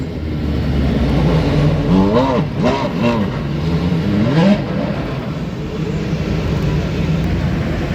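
A race car engine revs and shifts during the Rolex 24 at Daytona roll-out, with rising and falling engine tones mid-clip over steady crowd and track ambience, and a commentator talking throughout.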